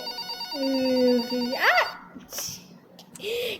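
A phone rings in the horror video game Pikabuu Night Shift Nurse, a loud electronic tone that slides up in pitch, followed by short clicks and a softer closing blip.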